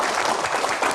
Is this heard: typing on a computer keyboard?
no